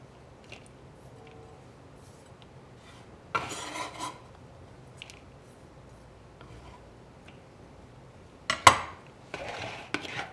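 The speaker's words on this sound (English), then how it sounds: "Give it a mix." Spoon and bowl clatter while a stuffed paratha filling of finely chopped ingredients is stirred, with quiet rubbing and scraping, a few louder clinks and a burst of scraping near the end.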